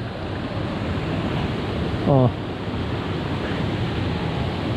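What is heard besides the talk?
water overflowing and flowing out toward the river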